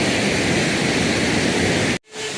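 A roadside waterfall roars in a steady, dense rush of falling water, close and loud, after monsoon rain and landslides along a mountain road, cutting off abruptly near the end.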